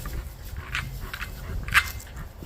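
A dog makes short, sharp sounds at close range, a few quick bursts over soft shuffling and movement, with no talking.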